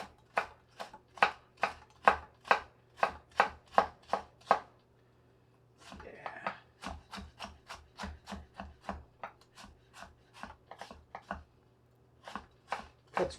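A Misen Santoku knife slicing through carrots on a cutting board, crisp rhythmic chops in quick succession with a brief pause midway before the steady cutting resumes, close and clear with no voices.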